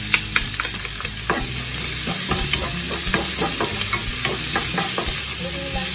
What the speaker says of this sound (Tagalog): ikulog na natin yung sibuyas